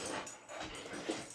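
A puppy breathes heavily in a short, close burst of rapid panting, with soft whimpery breaths rising and falling over steady background noise.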